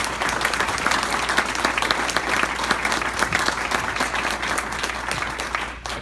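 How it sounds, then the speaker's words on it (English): An audience at a school board candidate forum claps steadily and fills the room with dense, sustained applause that fades slightly at the very end. "can we give a round of applause to our candidates?"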